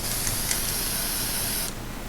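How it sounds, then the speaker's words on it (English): An aerosol spray paint can hisses in one steady, close burst onto part of a carnation flower for about a second and a half, then cuts off abruptly. "shake your paint as you're getting ready to spray, and you're just going to use it on a portion of the flower"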